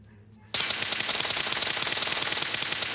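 Rapid automatic gunfire from the video game Free Fire bursts in loudly after a brief quiet moment and continues as a steady fast rattle of shots to the end.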